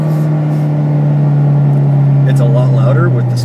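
A car engine fitted with an electric turbo and a supercharger idles in a loud, steady low drone throughout, with a voice briefly heard over it near the end.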